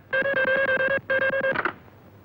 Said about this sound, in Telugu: పాండుగాడికి ఫోన్ చేస్తాను